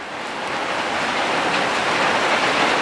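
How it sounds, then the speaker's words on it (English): Heavy rain pours down steadily on a roofed shrine, a dense, loud, unbroken hiss that swells slightly at the start and holds constant throughout, with no voices. "the biggest amount of rain just came down"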